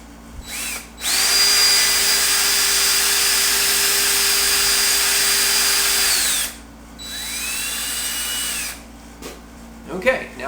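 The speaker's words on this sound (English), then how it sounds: "now it's just a question of making successively larger holes until I get to my 1/2 inch hole" Power drill boring successively larger holes into a Warmoth guitar body, a loud steady whine running about five seconds, then a shorter second burst after a pause, ending with a few faint handling clicks.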